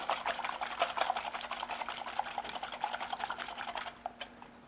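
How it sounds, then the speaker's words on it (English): Two large eggs whisked in a bowl for chocolate banana bread, a fast steady rattle of whisk strokes against the bowl, close and moderately loud, slowing and stopping near the end. "I have 2 large eggs, and I'm just going to whisk those"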